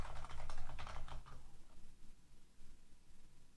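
Brisk clicking keystrokes on a new computer keyboard, rapid and close for the first second and a half, then thinning to scattered lighter taps against a quiet room.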